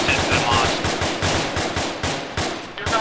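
Gunfire during squad training: rapid bursts of loud, close automatic shots in a fast, uneven rhythm, with one short break near the end.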